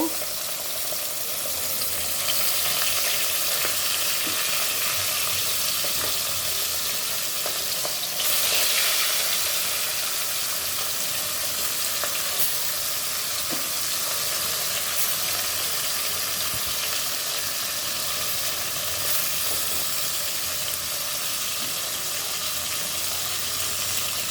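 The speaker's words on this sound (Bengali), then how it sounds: "আজকে রান্না করব মাছ দেখো মাছ ভেজে নিব" Fish frying in a pan produces a continuous, fairly loud sizzle and crackle that holds steady for the whole stretch, with light stirring and faint watery spatters.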